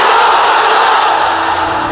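A large crowd at a Bangladeshi Islamic sermon gathering roars the takbir chant in unison, a loud, sustained massed shout filling the whole moment with no pause.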